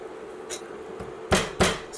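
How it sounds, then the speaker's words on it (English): Garlic is crushed in a kitchen during pork cooking: two loud, sharp thumps close together near the end, preceded by faint taps over a low background hum. "Sorry for that noise, I'm just crushing my garlic here."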